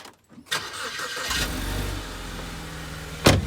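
A car engine starts and runs close by, rising into a steady mid-pitched drone with revving as the vehicle sets off on a mountain road, ending in a sudden loud knock.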